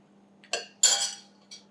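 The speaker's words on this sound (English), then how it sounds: "now beyond this point I have to let the scraper clean up with the hot water" A metal cake scraper used for smoothing ganache on a round cake clinks and splashes in hot water, giving three short, quiet bursts spaced apart over a low steady hum.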